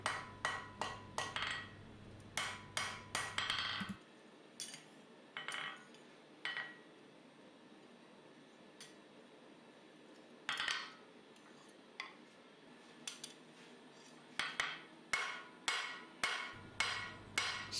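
Steel being hammered at the forge to bevel the body of a Continental seax blade, with quick runs of loud, ringing close hammer blows broken by quiet pauses.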